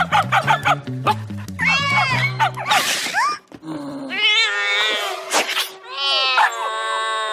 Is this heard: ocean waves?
no